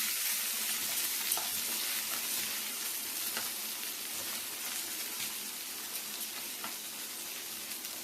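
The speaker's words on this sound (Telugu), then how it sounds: "టూ టు 3 మినిట్స్ వరకు వంకాయల్ని బాగా ఫ్రై చేసుకుందాము." Brinjals frying in hot oil for an Andhra-style brinjal masala give a steady, close, even sizzle that holds throughout, with no talking.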